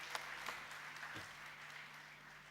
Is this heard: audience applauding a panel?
yes